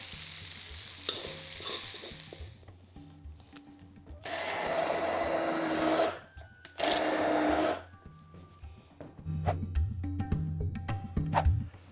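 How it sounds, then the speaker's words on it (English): A kitchen blender blitzes cooled fried onions into a paste for a Mughlai-style curry, with two loud sustained whirring runs and a pause between them, framed by quieter clatter and a softer mechanical hum. "When they've cooled down a bit, we're going to blitz them into a nice paste."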